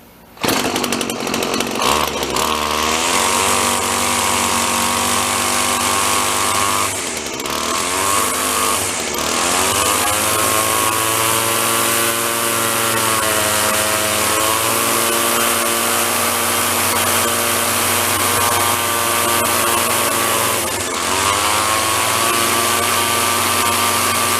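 Small gasoline engine on an old Sears Best machine, run at half choke, starts and settles into a loud, close, steady buzzing run, briefly dipping in speed a few times before recovering.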